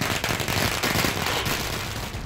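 Firecrackers burst at a street celebration with drums, a dense continuous rattle of loud crackling pops filling the whole stretch without pause.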